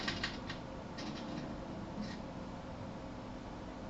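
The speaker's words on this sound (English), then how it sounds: "they're relayed to this special typewriter, which prints out a punch card that represents the subject's mind map" A special typewriter in the Back to the Future video game hammers out a punch card, a few faint clacking strikes over a hissy, muffled game background.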